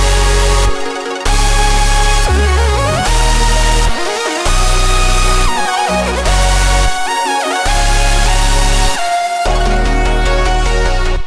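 A loud, layered synth chord stack washed in delay, flanger and reverb plays over added background sounds. Sustained chords shift and sweep, and they are cut by short, abrupt gaps of near silence.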